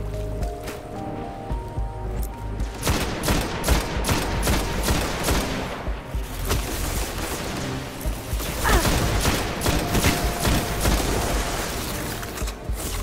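Rapid bursts of scout rifle fire from the video game Destiny, in an Iron Banner match, crackle in dense repeated volleys that run almost continuously at close, loud level, with no talking over them.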